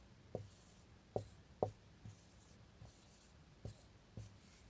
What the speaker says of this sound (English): I'm going to write a word here that you might come across